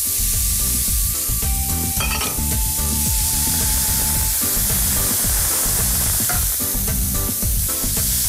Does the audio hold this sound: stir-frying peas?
yes